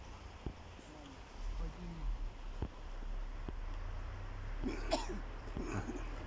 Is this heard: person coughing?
yes